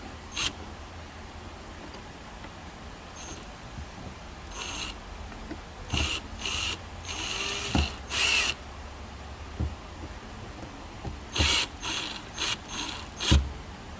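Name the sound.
screw being driven into circuit board standoff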